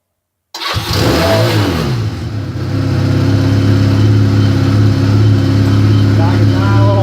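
A motorcycle engine on full choke cranks, catches after a short silence and rises into a loud, steady, close-up roar with throttle blips, while someone talks over it.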